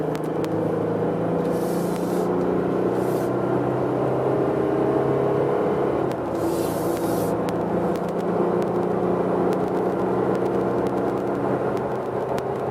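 A customized 2021 Glover Customs/Starwood Customs Jeep Gladiator accelerates onto a freeway, heard from inside as a steady, loud engine rumble and road roar that builds without pause, with faint clicks and no talk.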